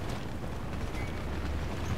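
Explosion in the video game Battlefield Play4Free, a dense, sustained low rumble with steady loudness that rolls on for the full two seconds and has no clear separate blasts.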